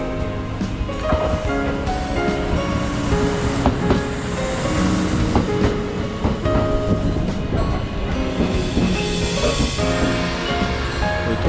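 A red Kintetsu Hinotori limited express runs loudly along the line heard from on board, with rumbling wheels, rhythmic rail clicks and a steady mechanical whine.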